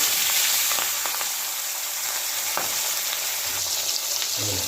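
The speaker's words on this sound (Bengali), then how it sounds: "মাছগুলো আমি এবার ভেজে নেব।" Pieces of katla fish frying in hot oil sprinkled with a little turmeric, a dense, steady sizzle with sharp crackles and pops, close and loud, with no talking.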